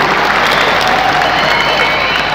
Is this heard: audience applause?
yes